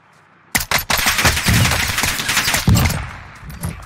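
Type 63 rifle in the video game Warzone, a sudden loud rapid volley of gunshots followed by sustained automatic fire that slowly tails off, close and dominant with no talk.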